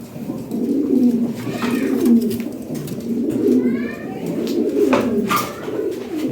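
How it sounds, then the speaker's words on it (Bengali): Imported Lahori Sherazi pigeons coo in soft, repeated rolling calls close by, with faint background murmur around them. "এগুলো অরিজিনাল ইম্পোর্টেড প্লেন আশা কবুতর"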